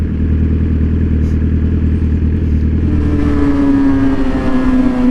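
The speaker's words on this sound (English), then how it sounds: "There's something just so awesome about spinning the tire on a bike." A motorcycle revs hard with its rear tire spinning, a loud continuous engine roar that climbs in pitch near the end, with clattering mechanical noise underneath.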